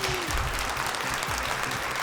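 An audience applauds at a talent show final, a dense, steady wash of clapping from a large crowd that carries on evenly with no single voice standing out.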